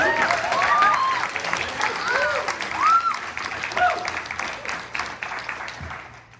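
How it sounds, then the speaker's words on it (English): Applause ripples through the audience at a stuttering association's annual convention during an advocacy panel, a steady crowd clapping with a voice briefly audible over it. "Let's give that a round of applause, because that's awesome."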